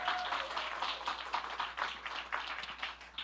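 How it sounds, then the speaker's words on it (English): An audience at a film screening and discussion applauds, a fairly faint, steady patter of clapping from a modest crowd that lasts the whole moment. "give yourselves a round of applause"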